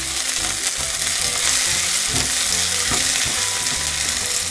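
Chopped onion fries loudly in a pan for a pea-leaf and potato curry, a dense, constant sizzle broken by a few scrapes and knocks as it is stirred.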